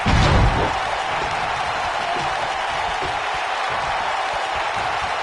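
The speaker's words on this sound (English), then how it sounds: "Listen to this crowd." A large wrestling arena crowd roars continuously, a loud steady wall of cheering and noise with a sharp burst at the start.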